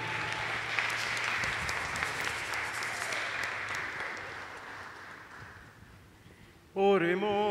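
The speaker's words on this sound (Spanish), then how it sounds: "Así que un aplauso al padre Jorge." A sustained crowd applause for the priest during a Mass, steady and fairly loud, gradually thinning out before a voice begins right at the end.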